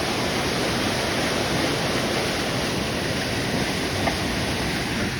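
Floodwater rushes loudly during heavy rain near Kullu on the Manali–Chandigarh highway, a dense, unbroken roar close by and steady from start to finish.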